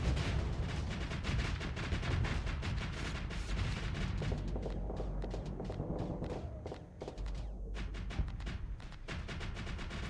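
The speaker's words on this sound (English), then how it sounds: "Those auto pulse lasers." Rapid energy weapon fire from auto pulse lasers in the space combat game Starsector, a dense continuous barrage of thumping, crackling shots with heavy low rumble, loud and close throughout.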